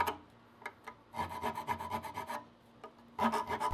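A piece of copper tubing is rubbed along the teeth of a steel metal file to clean them, producing rhythmic rasping strokes in quick runs with brief pauses, close and fairly quiet.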